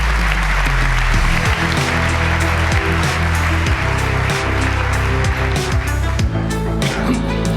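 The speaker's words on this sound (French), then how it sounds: "Merci de les applaudir." Dense, loud audience applause fills a corporate opening ceremony hall, steady throughout with sharp individual claps standing out near the front.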